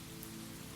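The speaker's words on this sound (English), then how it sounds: "The rain tapping the roof above her, the hush of water sliding from the eaves" Soft, steady rain patters on a roof as a dense, even hiss of drops, quiet and continuous with no voices.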